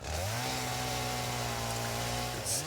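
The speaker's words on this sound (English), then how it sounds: "So I'm gonna need my chainsaw." A chainsaw cuts steadily in the video game Satisfactory, its engine holding a loud, buzzing drone for nearly three seconds with a brief dip and surge near the end, close and without speech.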